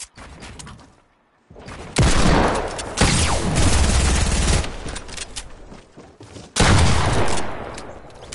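Loud video game gunfire in a build battle: dense rapid bursts of shots start after a brief quiet, then a pause, then another close, intense burst near the end.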